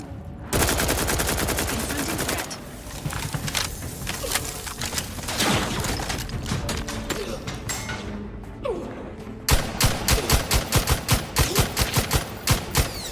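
Turret gunfire in The Outer Worlds 2, loud rapid bursts of automatic shots with thumping impacts, continuing across the clip and intensifying toward the end, with a player talking over it.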